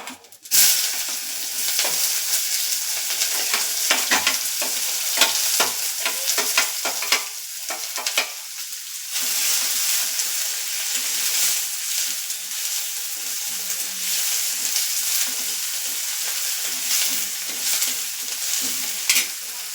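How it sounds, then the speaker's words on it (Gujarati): Chopped onion and peanuts sizzling in a frying pan while being stirred, a steady loud hiss and crackle with frequent scraping of the spoon, continuous for about twenty seconds with no talking. "ડુંગળી એડ કરી અને આપણે બરાબર મિક્સ કરી લેશું"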